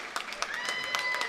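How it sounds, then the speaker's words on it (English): A high school volleyball crowd in the stands applauding a player's 1,000th career kill, dense rapid clapping throughout the short moment with a voice speaking over it. "Good show of sportsmanship from the Gilman Fad section, clapping it up for her as well"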